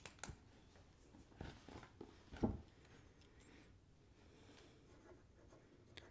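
A fountain pen scratches softly across Twisbi paper in short, intermittent strokes, close and faint, with a louder stroke midway.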